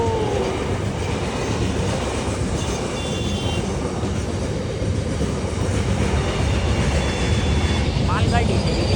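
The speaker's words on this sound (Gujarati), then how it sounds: "ના એ તો ટ્રેન આવી" A goods train passes near Rajula in Gujarat on a rainy day, a steady loud rumble with rhythmic wheel clatter and a brief metallic squeal near the end.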